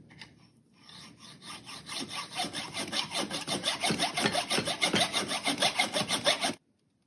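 A hacksaw cuts during a VW TDI fuel filter replacement, a close, steady series of rasping back-and-forth strokes that gets louder and faster before stopping abruptly.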